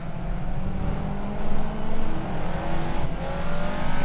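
Race car engine in the Project Cars video game, a Caterham at an academy race, droning loudly and steadily with rising and falling revs and gear changes, close and continuous with no voices.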